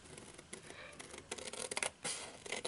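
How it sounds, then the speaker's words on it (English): Scissors cutting paper along a folded line while making a small custom pocket folder, with a quiet series of short crisp snips and slicing rasps, close and alone. "we're just going to cut along this line"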